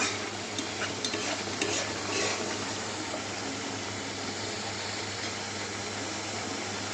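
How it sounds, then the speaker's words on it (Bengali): Whole spices frying and being stirred in a pan for a papaya dish, a steady low sizzle with soft scraping strokes, no talk. "মশলাগুলো জাস্ট একটু ভাজা ভাজা করে নেবে"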